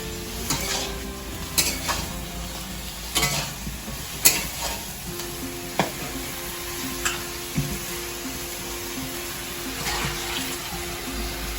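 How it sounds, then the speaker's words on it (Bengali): Vegetables frying in a pan, with a low continuous sizzle broken by repeated sharp scrapes and clinks of stirring at an uneven pace. "সবজিটা প্রায় ভাজা হয়ে গেছে।"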